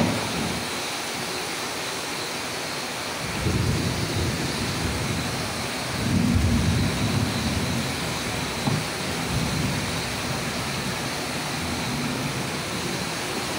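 Heavy rain pours steadily over a flooded rice field, a dense unbroken roar that swells louder for a few seconds midway before settling back to a constant wash.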